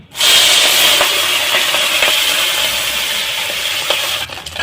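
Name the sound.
puti fish frying in hot oil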